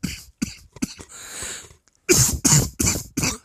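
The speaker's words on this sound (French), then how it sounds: "Désolé si je tousse un petit peu" A person coughs in a short run of close, harsh coughs, then a longer burst of four strong coughs after a brief gap.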